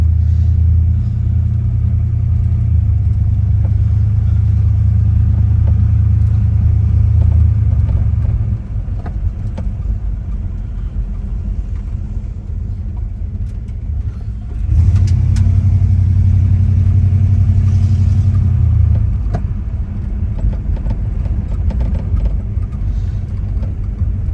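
A 1958 Plymouth four-door, a 1957 Dodge conversion, drives with its engine running steadily, the low engine rumble swelling loudly twice as it revs and shifts, with no talk over it.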